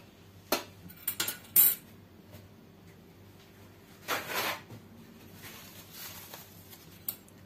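Apricot flesh without its skin being mashed into a puree with a fork in a small bowl, a few short scraping, squishing taps clustered in bursts between quiet pauses, close and soft.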